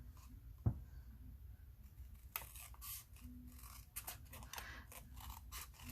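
Scissors cut through paper during a craft project making a book cover and topper, a single sharp snip followed by soft scraping and rustling paper handling, close and quiet.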